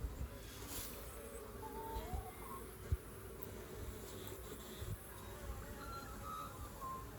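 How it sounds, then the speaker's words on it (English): Honeybees in a mini nuc hive make a steady, close buzzing drone throughout, with a few faint knocks and handling sounds mixed in. "So I left that feeder in because there's lots of bees down in it."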